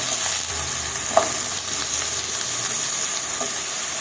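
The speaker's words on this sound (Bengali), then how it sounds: "তেলটা কিন্তু এখানে তেতে গেছে, তো এখন কিন্তু আমি তুলে দেব আলুগুলো।" Potatoes dropped into hot oil for a dry okra and potato curry, a dense steady sizzle with light stirring and a single small clink early on.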